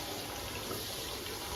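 Water runs steadily into a cooking pot for prawn biryani, a continuous close broadband pour that holds level throughout with no talk over it.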